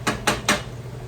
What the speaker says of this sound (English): Let's give them a stir.